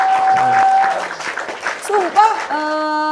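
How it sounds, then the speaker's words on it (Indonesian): A studio audience claps during a talk show about mystical beliefs, with brief clapping mixed under voices and electronic sound effects, ending in a sustained chime-like tone. "tepuk tangan dulu dong buat Marcel"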